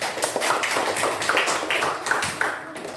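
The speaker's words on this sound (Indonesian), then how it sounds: "Tepuk tangan." Students in a classroom clap their hands, uneven rhythmic claps from a small group at moderate loudness for about three seconds, with no talk over them.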